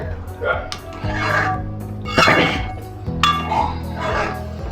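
A spoon stirs pav bhaji in a metal pan, producing repeated scraping clinks and knocks of metal on metal while someone talks over it.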